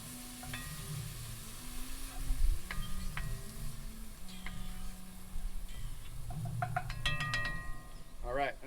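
Onion and minced garlic frying in a hot pan for bourbon BBQ sauce, with a steady close sizzle, occasional utensil clinks and stirring scrapes, and a voice talking over it.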